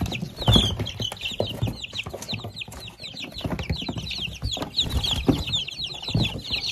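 Weak, small chicks kept together in a cardboard box, peeping and cheeping continuously in a busy, overlapping chorus close by, with soft rustling and scratching beneath.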